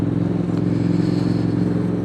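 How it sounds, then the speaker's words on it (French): A Yamaha XSR 700 motorcycle from 2019 with an aftermarket exhaust line idles with a steady, throbbing exhaust rumble, close and continuous, without clear revving. "autant la ligne elle fait un super bruit"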